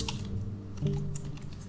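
Computer keyboard typing while entering text into an online app release form, a steady run of soft key taps over a low background hum, moderately close.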